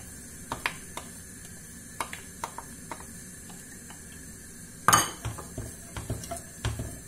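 Onions going into tuna oil in a stewpot make a few light clinks and scrapes of utensil against metal, followed by soft clatter and stirring noises, close and moderately quiet with no talking.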